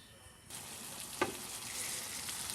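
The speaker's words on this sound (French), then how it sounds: "je vais mettre maintenant de l'huile de palme chauffée" Heated palm oil poured into a pot of Congolese beef jaw and cassava-leaf stew sets off a sudden, steady sizzle close by, with one sharp clink partway through and no talking.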